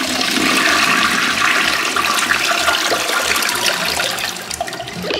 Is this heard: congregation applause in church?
no